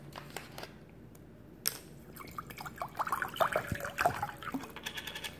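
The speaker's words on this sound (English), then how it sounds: "fill your singing bowl with salt water" Salt water is poured into a singing bowl used for cleansing crystals, starting with faint taps and then building into uneven trickling and splashing with bright liquid plinks over a few seconds.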